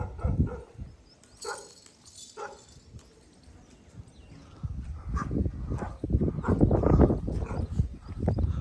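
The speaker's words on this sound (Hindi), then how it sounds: "इस कालू के भौंकने की आवाज़ आ रही है।" A few sharp barks from a dog some distance away, followed by louder rustling and shuffling noises up close.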